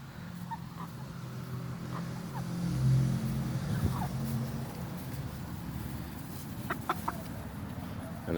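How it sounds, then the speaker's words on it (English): Chickens in a backyard orchard garden cluck and squawk close by in short, scattered calls over a low background hum, with a faint voice now and then. "Chickens! Come on, chickens!"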